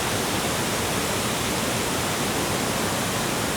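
Waterfall plunging some 25 to 30 meters off a cliff edge into a pool below on the Bolaven Plateau in Laos, a dense, steady broadband roar with no breaks, loud and close.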